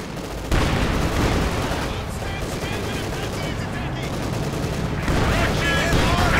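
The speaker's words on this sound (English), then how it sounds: "field guns opening up" Field guns open fire in the strategy video game Company of Heroes 2, a loud, dense barrage of cracking shots and booms that runs continuously without a break.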